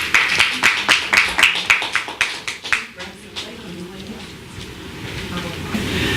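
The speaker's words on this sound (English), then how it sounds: "Let's give her a round of applause." At a community conversation event, a few distinct hand claps come in a quick, regular rhythm and then fade out over low background noise.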